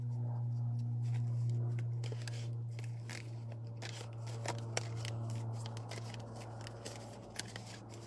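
Playing cards being shuffled in repeated crisp riffles and rustles, fairly close, over a steady low hum, with no voices.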